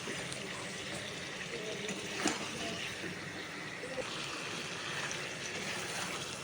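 Water added to a pan of mutton curry being slow-cooked, a continuous rushing, splashing pour heard close and steady from start to finish.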